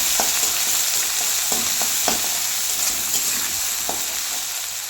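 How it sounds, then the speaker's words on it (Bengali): Chopped onions fry in hot oil tempered with cumin seeds for a shol fish curry, giving a steady close sizzle broken by a few sharp stirring scrapes, with no talking. "এখন পেঁয়াজ কুচিগুলো দিয়ে দিলাম। পেঁয়াজটা ভাজা ভাজা করে নেবো।"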